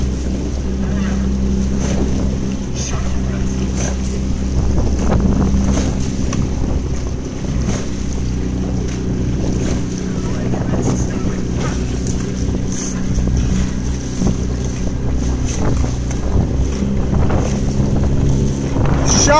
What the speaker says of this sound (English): Listen to the boats.